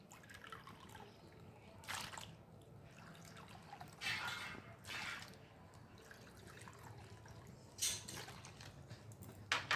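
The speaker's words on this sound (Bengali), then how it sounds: "এখন আমি এই বাটির মাপেই পাঁচ বাটি জল এখানে দিয়ে এই চালের গুঁড়োটা প্রথমে গুলে নেবো" Water trickles and splashes softly as it is poured into rice flour and stirred to mix, with faint intermittent sloshes over a quiet background.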